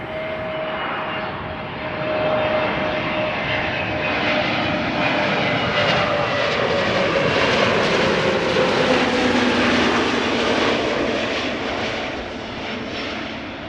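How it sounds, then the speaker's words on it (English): An Air Canada airliner on approach to Amsterdam Schiphol Airport roars steadily overhead, its engine whine swelling and holding loud with a broad rushing tone across the whole span. "And it looks like Air Canada is also approaching."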